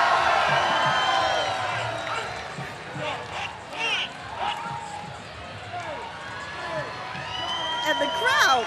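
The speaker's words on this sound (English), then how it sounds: "And the crowd is going wild." A crowd cheers and whoops loudly for the Marching Elite Drill Team from Hampton, Virginia, performing at a St. Patrick's Day event, the roar sustained throughout with shouts and swells rising near the end.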